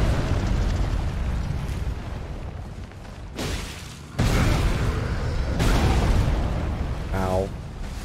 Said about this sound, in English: It's big kaboom.